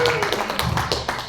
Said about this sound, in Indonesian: Tepuk tangan dulu dong Bapak Ibu